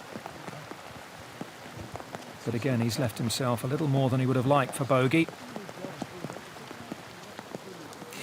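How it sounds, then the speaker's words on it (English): Steady rain falls on a golf course during a tournament round, a soft continuous patter throughout, with someone commentator talking over it in the middle. "Listen to the rain come down."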